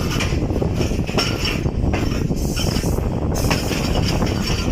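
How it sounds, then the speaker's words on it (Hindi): Loud, steady rumble of the 13 Up Awam Express as it comes into a station on the loop line, with occasional metallic clinks and squeals over the constant rolling noise of carriages. "गाड़ी अप्रोच कर रही है मीटिंग रेलवे स्टेशन"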